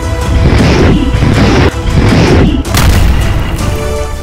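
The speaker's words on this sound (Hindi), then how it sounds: "खार्किव के रेलवे स्टेशन पर ऐसा मिसाइल हमला हुआ कि पूरा रेलवे स्टेशन लगभग तबाह हो गया।" Missile strike explosions at a railway station in Kharkiv during the Russia-Ukraine war, a loud continuous roaring blast sound with heavy low rumble and a sharp break midway, close and dense.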